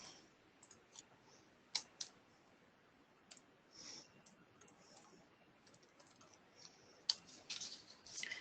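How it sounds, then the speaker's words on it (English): Quiet, close keystrokes on a computer keyboard tap in irregular bursts, with a few sharper clicks standing out against a low background hiss. "And you can see here as I'm typing"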